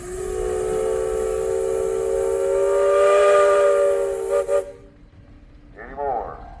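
A steam engine whistle at a Michigan steam and threshers festival gives one long, loud, sustained blast that holds steady for about four and a half seconds and then cuts off, followed by a brief voice.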